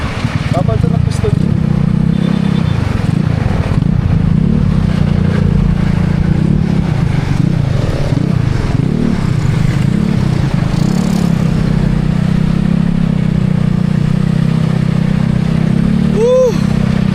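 A motorcycle with a drained battery and a suspected piston problem runs loud and close with a steady low drone, its pitch wavering slightly as it is revved.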